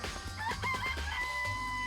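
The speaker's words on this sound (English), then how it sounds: "I remember there were some chickens in the chicken coop." Chickens cluck in a coop and a rooster crows faintly in the video game Danganronpa, a short burst of farmyard calls with a low hum underneath.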